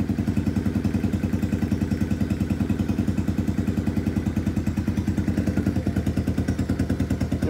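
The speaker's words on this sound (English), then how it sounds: "Just the idle." A KP Mini motorcycle fitted with an upgraded exhaust idles steadily up close, its cold engine putting out an even, rapid putter that stays consistent throughout with no talking.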